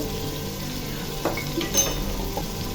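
Garlic and ginger fry in a pan with cloves and cardamom for a village-style desi chicken curry, a steady low sizzle with a couple of soft spoon scrapes and clinks, close by and without talking.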